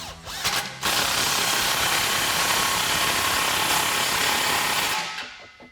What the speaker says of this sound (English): I'm going to use a 15mm socket on an impact gun